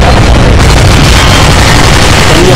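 Loud, dense blast of explosion sound effects in a zombie shooter game, a continuous roaring wall of booms and crackling debris filling the whole stretch, with a voice faintly mixed underneath.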